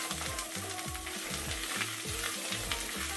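Garlic and softened onions sauté in a pan for a chile relleno and chorizo casserole, a soft steady sizzle with faint crackles under a low, rhythmically wavering mechanical hum, and no voices.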